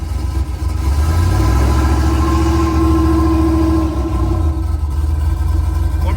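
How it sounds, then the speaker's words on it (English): A Chevrolet Silverado truck fitted with 15-inch Weld wheels rolls up to speed with a steady engine drone and low road rumble, loud and continuous, with a faint tonal whine from braking or tire rub. "go ahead and get it up to speed a little bit and then press the brake"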